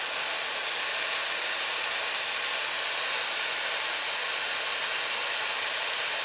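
A torch blasts a constant loud hiss while heating solder on a handmade copper ring, a steady broadband roar that runs unbroken from start to finish with no voices.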